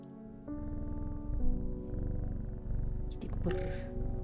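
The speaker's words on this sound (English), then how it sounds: "Kitty go purr." A cat's steady, rumbling purr from the video game Strange Horticulture rolls on in pulsing waves beneath soft game music, with a brief clicking interface sound partway through.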